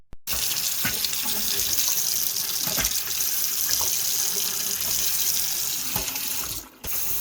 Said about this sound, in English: Now I let the water run